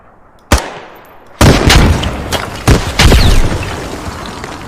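Heavy gunfire and booming explosions in the video game Squad, incoming rounds and blasts hitting close to the player: a sharp crack, then a loud sustained barrage with several strong impacts fading into rumbling echo.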